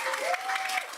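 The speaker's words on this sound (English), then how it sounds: "let's get a round of applause for you" A live audience at a VALORANT Masters Toronto show clapping in a steady dense patter, with a faint voice call over it.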